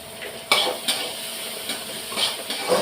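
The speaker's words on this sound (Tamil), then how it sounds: "கருவேப்பிலையும் பாவக்காய் மட்டும்தான் நான் ஃப்ரை பண்ணுறேன் எண்ணெயில்" Bitter gourd and curry leaves frying in oil make a soft sizzle, broken by several sharp clanks and scrapes of a spatula against the pan, close and alone.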